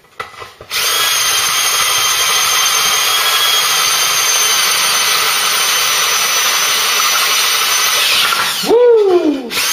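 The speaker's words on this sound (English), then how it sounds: "I'm now drilling the holes in Bramble's arms to take the anti-roll bar rear" Power drill boring holes through the rear suspension arm of a Mk3 Ford Cortina, a steady high whine held for several seconds close by, ending with a brief rising spin-down.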